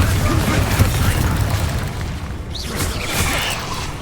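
A Bombarda spell explosion in the video game Hogwarts Legacy makes a loud, deep boom with a rumbling blast that fades out over a few seconds, with a voice faintly under it.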